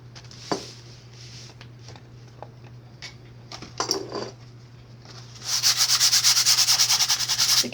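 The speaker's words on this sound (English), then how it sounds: "The first thing you want to do is just feel your canvas and then give it a light sand." A painting canvas gets a light sanding with a fine grit oval sanding disc: scattered soft rubs and taps, then a loud, rapid, rhythmic scratching burst of sanding close by; no talking.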